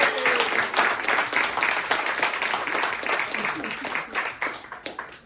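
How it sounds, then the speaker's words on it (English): After a rope escape trick at a parlor magic show, the audience breaks into loud, continuous clapping that gradually thins toward the end, with some voices mixed in. "Let's give them both a round of applause."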